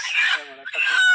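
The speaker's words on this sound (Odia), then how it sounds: "ଦେଖନ୍ତୁ କେତେ ବଡ଼ ସାଇଜ୍ ଆମର ଦେଶୀ କୁକୁଡ଼ା" Desi chicken in a tribal village, a short loud close burst of squawking, clucking cries with a brief break in the middle.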